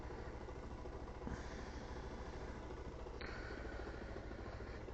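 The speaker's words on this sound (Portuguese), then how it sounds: "É bom que a motinha vai esquentando um pouquinho" A small motorcycle warming up on a weekday morning, its engine idling in a low, steady drone that holds even throughout, close and alone with no talking.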